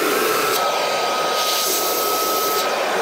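Milwaukee M18 Fuel compact cordless vacuum running at full suction, giving a loud, steady, close-up airy whine with a constant pitch for the whole stretch.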